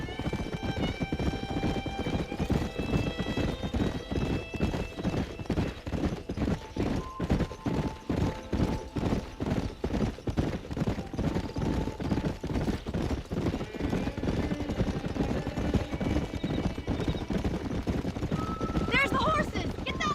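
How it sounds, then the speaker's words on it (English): Horses galloping in the video game Red Dead Redemption, a fast continuous clip-clop of hooves with occasional neighs and whinnies, loud and close over a musical background. "There's the horses! Get that lasso ready!"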